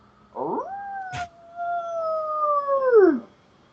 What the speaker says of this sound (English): You hear a loud howl.